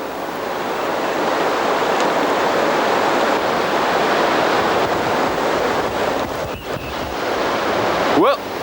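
A strong river current churns through turbulent water at a fishing spot, a steady, loud broadband rush that fills the whole stretch with little variation and ends in a brief rustle close to the microphone.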